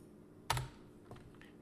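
A few quiet computer keyboard keystrokes, one sharper clack followed by two or three soft taps, close and isolated against near silence.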